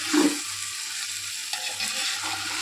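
Green chillies fry in a hot pan with a steady, close hiss of oil, opened by a short stirring scrape and continuing evenly throughout with no talk.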